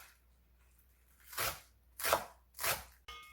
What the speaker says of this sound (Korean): 쪽파 한 줌 송송송송 썰어줍니다